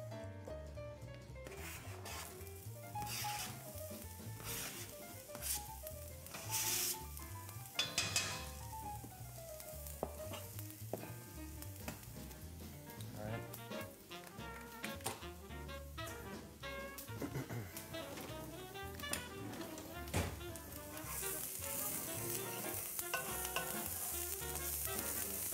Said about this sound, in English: let's go ahead and put the onions on there